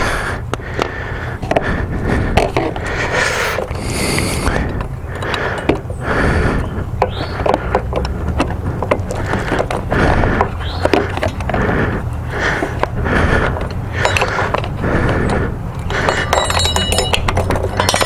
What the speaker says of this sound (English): just simply unscrew our bolt here, and we'll see if we can get the sprocket off.